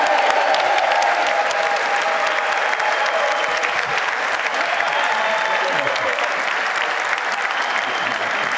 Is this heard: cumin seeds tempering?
no